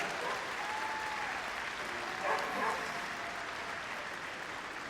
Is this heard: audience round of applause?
yes